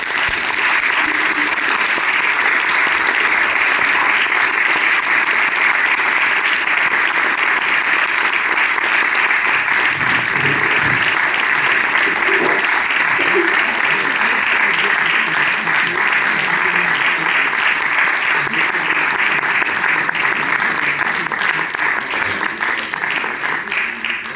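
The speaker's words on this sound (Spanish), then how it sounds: "Yo pido un aplauso para él muy fuerte, por favor" Festival audience gives a long, loud tribute applause in memory of a man who has died, dense continuous clapping from a large crowd sustained at full strength for over twenty seconds, with a few voices faintly beneath.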